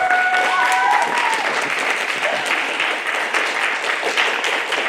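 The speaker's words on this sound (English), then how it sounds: "round of applause for our artists" An audience applauds the artists at a comedy challenge show, dense steady clapping throughout at close range, with a brief tonal whistle or cheer near the start.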